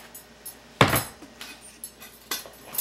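Utensil scraping and clinking against a bowl while banana nut waffle batter is mixed, with one loud knock and several lighter taps spread unevenly over a few seconds, close and fairly quiet.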